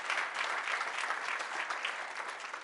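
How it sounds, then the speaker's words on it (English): An audience applauds an assistant at a banking staff gathering, a steady dense wash of clapping that holds evenly throughout without voices. "Everybody give Lana a big round of applause."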